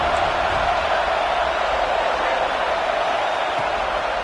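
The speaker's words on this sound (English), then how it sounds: "how nice is it to have the home crowd going absolutely bananas?" Home crowd at a college football game roaring loudly, a dense, steady wall of cheering that fills the whole stretch without a break.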